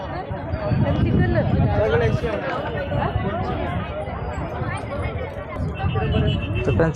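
Crowd hubbub at a large village fair in Rajur, a dense babble of many overlapping voices with nearby talk on top, continuous and moderately loud.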